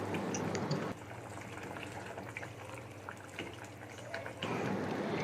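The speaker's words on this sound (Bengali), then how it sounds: "এবার একটু নেড়ে চেড়ে মিশিয়ে দিচ্ছি সবকিছু।" Pumpkin greens with shrimp simmering in a pot, a low bubbling murmur with faint spoon clinks and stirring scrapes, steady and fairly quiet throughout.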